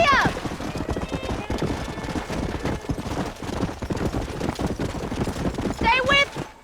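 Horse hooves clip-clopping at a steady gallop in Red Dead Redemption, continuous and fairly close, with a horse whinny near the end and some distant gunfire mixed in.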